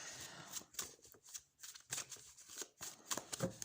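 Close, quiet shuffling of tarot cards: a series of soft riffling and sliding bursts in an irregular rhythm.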